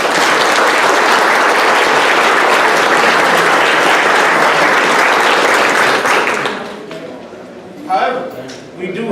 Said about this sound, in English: So at this time, I would like to give a round of applause for Mr. Larry.